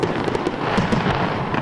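Riverside fireworks over a city at night give a few quick crackling bursts early and midway, with a continuous low rumble underneath.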